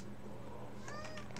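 A house cat meows close by, a couple of short rising calls near the end, over a steady low hum of game background sound.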